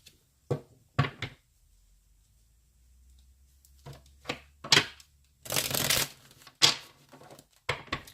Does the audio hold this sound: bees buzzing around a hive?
no